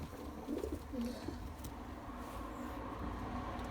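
Fantail pigeons coo softly in breeding boxes, a few low, rounded coos rising over a quiet, steady background of rustling and distant hum.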